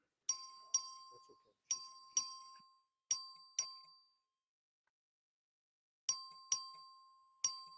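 Bright electronic chime bell rung in the Texas House of Representatives to open a record vote, sounding in quick pairs of ding-dong tones, clean and fairly quiet, with a long gap before more chimes.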